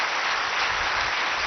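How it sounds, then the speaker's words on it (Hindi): An audience breaks into applause at a talk, a dense, loud and continuous wash of clapping across the whole moment, with no voices rising above it. "ताली बजाओ भाई"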